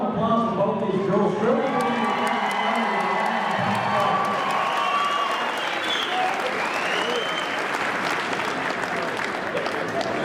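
Crowd at a New England Fights event applauding and cheering after a bout, loud sustained clapping and shouts under an announcer's voice that carries over the first few seconds.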